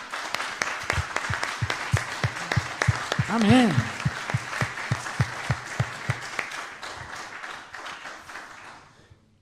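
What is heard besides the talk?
congregation applause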